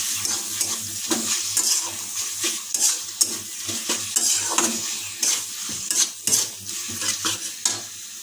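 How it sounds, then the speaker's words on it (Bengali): Chicken pieces stirred into masala with a metal spatula for chicken ghugni, a rhythm of repeated scraping strokes against the pan over a soft sizzle, close and continuous; no talking. "এবার এটা খুন্তিতে ভালো করে নাড়িয়ে নেব।"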